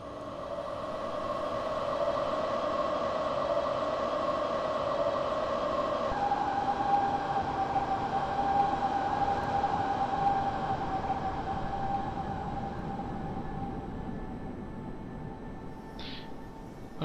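An NS double-decker train in Train Simulator 2014 pulls at full throttle, a steady droning motor hum with tonal whine that shifts pitch partway through, continuous and fairly loud, with a brief high chirp near the end.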